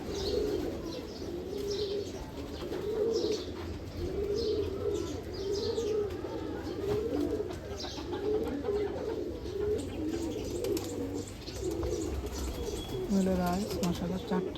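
A female Sakhi Teddy pigeon, ring number 41, gives repeated soft cooing calls in a steady rhythm, close by, with chirps from other birds and someone talking over them.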